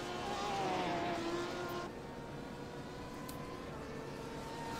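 A Porsche RSR race car engine at Belle Isle in iRacing, a sustained whining drone that fades as another car passes, followed by a lower steady engine hum with no talk.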